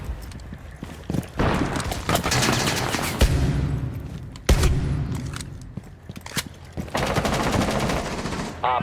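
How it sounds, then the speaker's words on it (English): Desert Eagle pistol shots in Rainbow Six Siege crack loud and sharp in scattered single bursts amid other gunfire, mixed with footsteps and game noise during a tense round. "Spoit used a deagle and almost killed an entire team with nothing but 1-taps"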